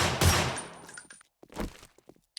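Pistol gunfire in the REBIRTH video game: two sharp, loud shots about a second apart, each with a short ringing tail, then near silence with a few faint clicks.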